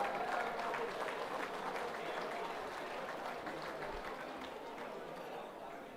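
Applause from an awards-night audience at the Eastern Football Netball League Chandler Medal, honouring under-19 best and fairest winners; steady, moderately distant clapping across the room with some crowd chatter mixed in.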